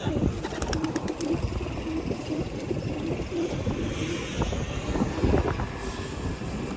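Trained pigeons are released to fly in Navotas, with a rush of wing flaps and pigeon coos over a constant broad outdoor wash of wind and distant noise.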